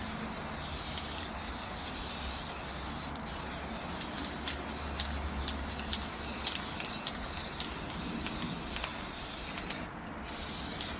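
Continuous loud aerosol glue spray hisses steadily onto the trunk floor of a Honda Del Sol during a DIY refit, with two brief pauses in the spray, close and alone.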